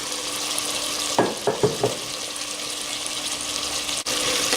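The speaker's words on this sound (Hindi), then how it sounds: "और इसको अच्छी तरह से भूनेंगे" Spices fry in a pan for mutton handi, a steady soft sizzle with a few brief scraping stirs near the middle.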